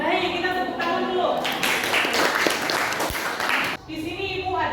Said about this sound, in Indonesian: Baik, kita tepuk tangan dulu.